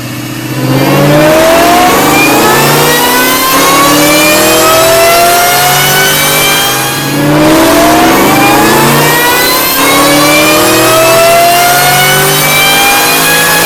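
A 2003-2004 Ford Mustang Cobra with a JLT ram air intake and boost roars through repeated full-throttle dyno pulls, its engine note climbing steadily in pitch, dropping back, then sweeping up again, loud and close with no talking.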